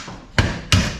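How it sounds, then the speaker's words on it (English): Two sharp, loud hammer blows about a third of a second apart, striking a stuck part behind a 1978 Dodge Ramcharger seat, each a solid metallic thud with a short ring. "what fixed it was the hammer."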